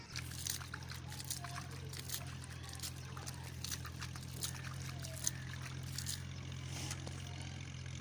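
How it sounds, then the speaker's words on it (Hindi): Water poured onto a grave in a graveyard, a faint trickling and splashing over a steady low hum, continuous and fairly quiet. "अब्बू जान अम्मी की कब्र पे पानी डाल रहे हैं।"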